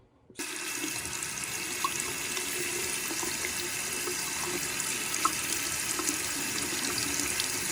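Steady rushing water pours continuously from an assembled pump's outlet after a brief quiet opening, a close, dense splashing flow with no voices.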